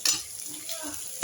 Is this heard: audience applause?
no